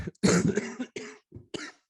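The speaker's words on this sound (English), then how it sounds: "let me cough on that one" A burst of harsh coughing up close, several rough coughs in quick succession with short gaps, ending in a couple of smaller coughs.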